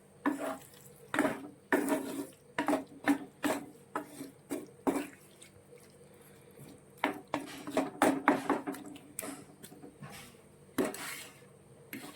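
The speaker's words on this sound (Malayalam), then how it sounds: "ഇനി ഇത് നമുക്ക് നന്നായിട്ട് മിക്സ് ചെയ്ത് നമ്മുടെ ഇതുമായിട്ട് യോജിപ്പിക്കണം." Lemon and date pickle stirred and mixed in a pot, giving repeated scraping and clinking spoon strokes against metal in uneven bursts, close and moderately loud, with short pauses between.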